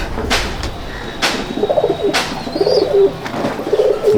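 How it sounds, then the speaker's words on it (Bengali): A male and a female pigeon from a loft in Chandannagar coo softly and repeatedly after being released, with a few sharp wing claps or knocks ringing out between the close, low coos. "দুটো পায়রা ছেড়ে শখ করাচ্ছি"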